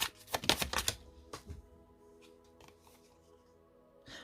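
Tarot cards handled and laid one on another during a reading, a quick flurry of crisp card slaps and shuffling snaps up front, then sparse soft taps, close, with no talking.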